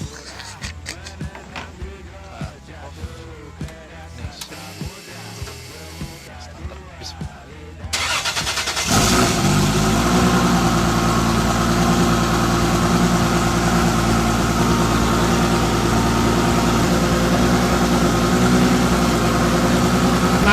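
After a stretch of talking, a tube-frame race car's 2JZ engine cranks and fires up, then settles into a loud, steady, rumbling idle nearby.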